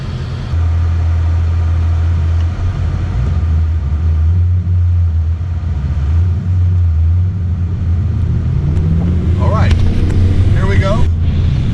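A 460 hp 2017 RTR Mustang GT V8 rumbles steadily on a race track at Gingerman Raceway, a loud continuous low engine drone with rising revs near the end.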